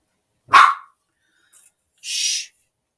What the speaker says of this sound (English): Don't start barking again.